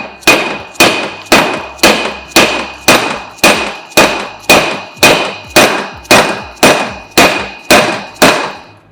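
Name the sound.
dead blow hammer striking greased exhaust part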